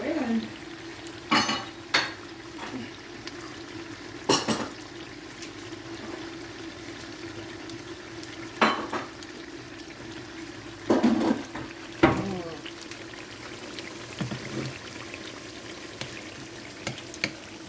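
Jamaican saltfish fritters made with curry powder frying in a pan, a steady low sizzle running throughout with scattered sharp clinks and utensil knocks from the kitchen.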